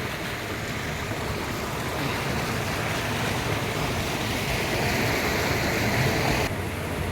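Steady broadband rush of the Tunga river flowing, a continuous close wash of moving water with a slight swell toward the end and no voices.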